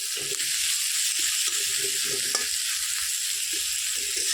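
Continuous sizzling of onions and garlic frying in hot oil, with repeated scraping and clinking of a spatula stirring the pan, close by.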